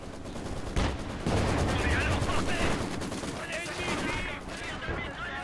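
Gunfire in the real-time strategy game Company of Heroes 2, with the Wehrmacht defending: dense, continuous bursts of rifle and machine-gun fire, plus some heavier shots, filling the whole stretch at close, loud volume.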